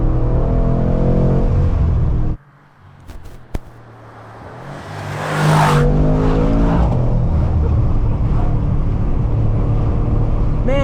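A 2021 Mercedes-AMG C63S coupe with a V8 is driven hard through corners. Loud engine roar inside the car drops away briefly, then builds again into a sustained, strong drone.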